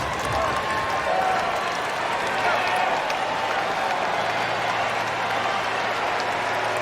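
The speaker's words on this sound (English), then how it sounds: "The people inside Ash Stadium are more than happy to scream for this guy." A packed tennis stadium crowd at the US Open final in Arthur Ashe Stadium roars and applauds continuously, a dense, steady wash of cheering and clapping heard from within the arena.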